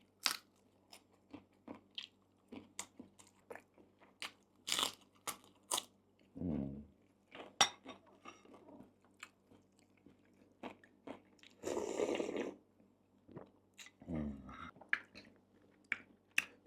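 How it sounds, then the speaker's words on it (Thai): Crunchy boiled pork ear served with Mon-style pork hotpot, chewed close to the microphone: sharp irregular crackling bites and crunches with pauses between, plus a few longer, softer chewing bursts. "อันนี้จะเป็นหูมันครับกรุบๆดี"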